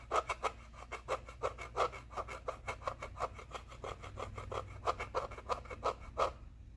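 A fingernail scrapes back and forth over the embossed lettering on a Nintendo Switch Pro Controller shell, making a quiet, rapid series of dry rasping strokes in an even rhythm, close up with no talk.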